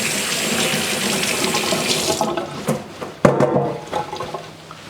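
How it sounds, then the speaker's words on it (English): Tap water runs steadily into a kitchen sink while hands are washed, a loud splashing stream that cuts off partway, followed by a few clunks and drips. "we have to wash our hands"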